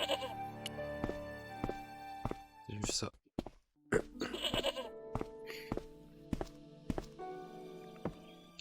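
Goat bleats in the Broken Sword (Les Chevaliers de Baphomet) point-and-click game, a repeated series of short calls over game music and footstep-like thunks, with someone speaking briefly.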